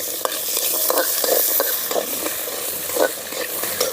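Small onions sizzling and frying in sesame oil for a country chicken rasam, stirred steadily with a spoon. The crackle and hiss runs continuously and close by, with scraping stir strokes throughout and no talk.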